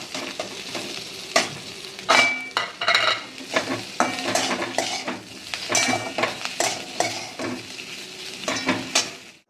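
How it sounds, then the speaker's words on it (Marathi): Rava and potato donuts tossed with chaat masala in a pan, giving a close, busy run of clattering stirs and light sizzling in quick, uneven strokes without any speech. "थोडासा चाट मसाला टाकणार आहोत आणि आपले डोनेट त्यामध्ये परतून घेणार आहोत"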